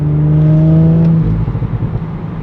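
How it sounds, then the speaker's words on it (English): A 2022 Audi S5 Sportback's exhaust under acceleration, a loud, steady engine drone with a rising tone that breaks into a rougher, pulsing rumble partway through, with no talking. "Not sure if that exhaust is coming through,"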